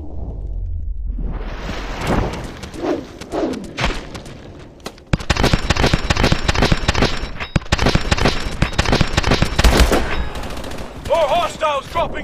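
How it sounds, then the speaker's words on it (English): Missiles strike during combat in Call of Duty: Advanced Warfare, a dense barrage of rapid sharp blasts and cracks with heavy booms, loud and continuous after a rumbling buildup. "missiles dropping in!"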